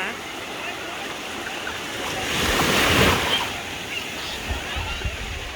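Sea waves wash ashore at a beach in Chanthaburi, Thailand, a broad surf roar swelling to a peak midway and easing off, with wind buffeting the microphone.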